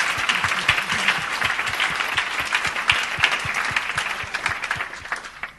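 An audience applauds steadily, many hands clapping in a dense, even stream of claps that carries on without a break and softens slightly toward the end.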